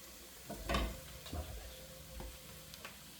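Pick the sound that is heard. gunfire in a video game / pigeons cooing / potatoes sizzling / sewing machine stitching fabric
potatoes sizzling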